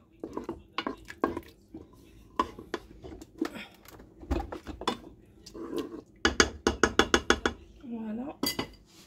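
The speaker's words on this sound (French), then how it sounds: "on va retouiller tout ça, que ça prenne bien" Stirring potato curry in a pot as a one-pot recipe cooks, with close clinks and scrapes of a utensil against the pot, including a fast run of repeated knocks, under intermittent talking.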